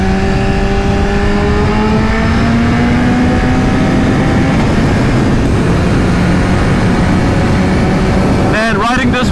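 A BMW S1000RR motorcycle with an Akrapovic exhaust roars loudly and close, its engine note climbing steadily through a long acceleration, easing briefly mid-run, then revving again before a quick burst of crackles at the end.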